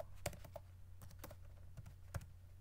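Computer keyboard keys being struck while typing a MySQL/MariaDB command, a quiet run of irregular individual clicks with a few sharper key hits, close and alone without speech.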